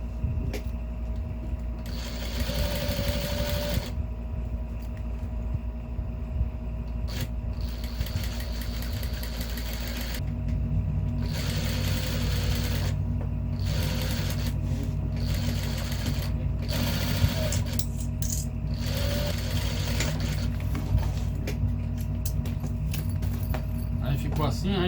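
A sewing machine stitches around the edge of a fabric manicure bag, its steady mechanical whir running in long bursts with short stops, while a person talks over it.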